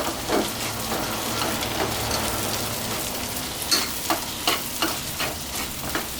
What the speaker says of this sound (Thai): เราก็นำนะครับ พริก หอมกระเทียมแล้วก็กะปิที่เรา ตำไว้เมื่อสักครู่ลงไปผัดนะครับ